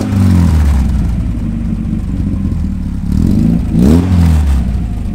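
Caterham Super Seven 1600K roadster's four-cylinder engine revs up, loud and close, with a throaty mid-low drone that swells in a sharp throttle blip near the end.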